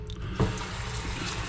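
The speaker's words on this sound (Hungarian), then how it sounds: "engedünk rá vizet először." Tap water runs into a sink onto about ten raw chicken wings, a steady close splashing hiss with a brief heavier splash early on.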